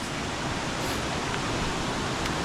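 Strong current of the Kalong River rushing steadily, a dense, continuous broadband wash of water with no pauses, heard close and loud and alone, without any talking.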